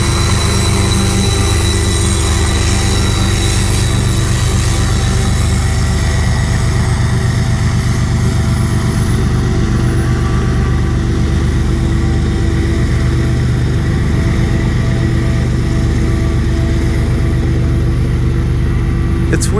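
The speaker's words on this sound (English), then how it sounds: "It's weird when the train's going away from you and it's got the pusher on the back, how pronounced and loud that is." A Kansas City Southern freight train rolls past with a pusher locomotive at the rear, its heavy diesel engine droning loud and close throughout, with steady low rumble and wheel noise that never lets up.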